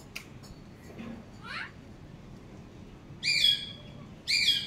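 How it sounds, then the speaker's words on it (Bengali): Birds call outside from a balcony in the morning: two clear bursts of bright, warbling chirps near the end, with a few faint, scattered calls before them over a quiet, low background hum. "কি সুন্দর একটা পাখির ডাক"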